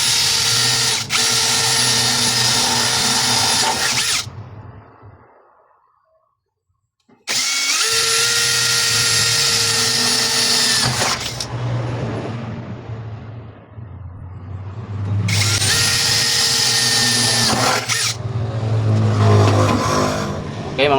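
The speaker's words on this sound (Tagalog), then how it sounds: "pwede na natin itong butasan" A power drill with a 1/4 bit bores a hole for a clutch pedal on a Bajaj RE. Three loud, close whining bursts of several seconds each are split by short pauses, with a brief quiet gap near the start.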